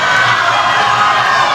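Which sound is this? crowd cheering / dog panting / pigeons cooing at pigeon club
crowd cheering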